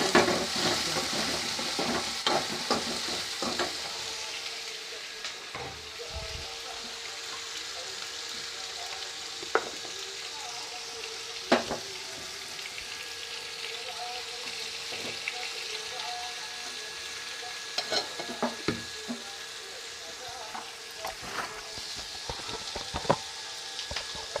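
Onions and ingredients sautéing in a pan for drumstick sambar, a steady sizzle with occasional sharp knocks of a spoon against the pan, no talk.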